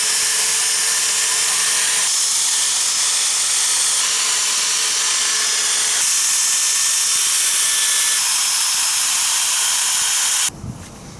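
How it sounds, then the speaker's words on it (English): A fast rotary polisher buffs a Ford F150 headlight with body polish compound, a loud, close, steady high-pitched whine and hiss that shifts pitch a few times before cutting off near the end. "I'm going to use the body polish compound because it's designed to wipe out scratches. And I'm going to use a faster rotary tool."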